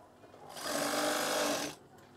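A sewing machine stitches curtain fabric for ear-loop curtain tabs in one fairly quiet, continuous run of about a second, rising and stopping abruptly, with no voice over it.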